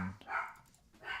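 Dogs bark somewhere in the distance, giving a couple of brief, faint barks in quick succession.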